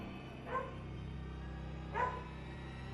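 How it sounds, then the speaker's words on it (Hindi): A dog outside a window barks repeatedly: two short, moderately distant barks about a second and a half apart, set against a steady low background hum. "खिड़की के बाहर एक कुत्ता उसे देख बार बार भौंके जा रहा था।"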